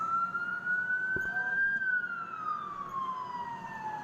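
An ambulance siren wails in traffic, one steady rising and falling tone sweeping up then gliding down, loud and continuous over a low street rumble.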